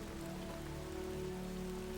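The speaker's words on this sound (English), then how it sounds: "I'm a little surprised how loud that rain is." Freezing rain spell in the strategy game Battle for Middle-earth: Rise of the Witch-King, a steady, loud rain hiss with a low hum beneath it, continuous and even throughout.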